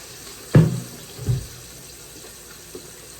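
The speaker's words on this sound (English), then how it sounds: "just filling this pot up" A cooking pot under a kitchen tap, with two short splashy bursts of running water close by, then a quiet stretch with a faint later clink and no voices.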